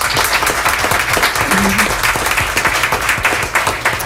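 Audience applause at a League of Women Voters candidate forum in Butte County, honoring an organizer seated with her husband; steady, dense clapping from a sizable crowd throughout, loud and close, with a faint voice briefly under it.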